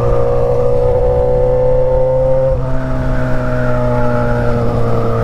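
A Yamaha XJ6 motorcycle with an Atalla sport exhaust runs loud and close with a steady droning engine note. Partway through, the pitch drops slightly and then holds again.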